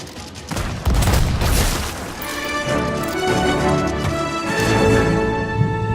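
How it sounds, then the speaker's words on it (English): Ship cannon fire and booming impacts from a boss fight in the pirate video game Sea of Thieves, a loud burst of heavy blasts and crashes followed by ringing, rumbling combat sounds. "using your cannon with your unlimited ammo is definitely the way to go to beat these bosses too"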